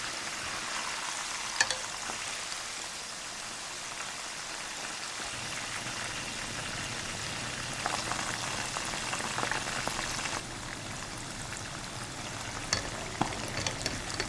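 Silverside fish fry in hot oil with a steady, soft crackling sizzle and scattered pops, fairly quiet and continuous throughout, with no voices.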